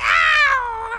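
A cartoon cat lets out a single loud, drawn-out meow that bends downward and fades after about a second, heard alone.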